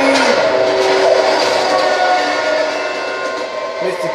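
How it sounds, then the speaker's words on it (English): Train rolling past in Ratchet & Clank: Into the Nexus, a loud, steady game-world rumble with sustained whistle-like tones, fading slightly toward the end. "Train!"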